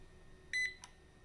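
Chinese laser engraver emitting a faint electronic beep, a steady tone held briefly and then a short second blip, with no voices.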